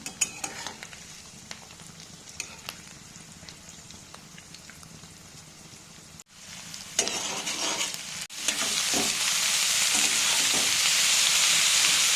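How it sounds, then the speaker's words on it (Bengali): Cabbage and mixed vegetables fry with egg in hot oil as a steady sizzle with stirring scrapes, and a louder, denser hiss surges in partway through and holds to the end. No one talks. "তেল গরম করে বাঁধাকপি সব ভেজিটেবলসগুলো ভেজে নিয়ে এবং তার মধ্যে ডিমটা দিয়ে ভালো করে ভেজে নিতে হবে"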